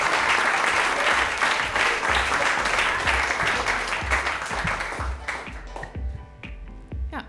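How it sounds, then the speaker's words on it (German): Dense audience applause at a youth poetry slam, loud and steady at first, then thinning into scattered individual claps toward the end, with no talk over it. "Bitte tragt sie mit eurem Applaus hier nach vorne."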